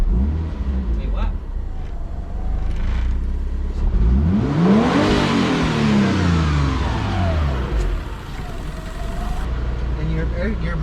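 Engine of a Mitsubishi 3G Eclipse with a suspected faulty airflow sensor, its idle surging and sagging as a rising then falling sweep through the middle of the clip, heard close up over a steady low rumble with voices in the background.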